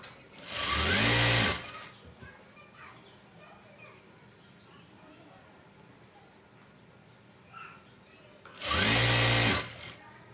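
A sewing machine stitching pieces of a saree together runs in two loud, close bursts of about a second each, at the start and near the end. Quieter background sounds and faint voices fill the gap between them.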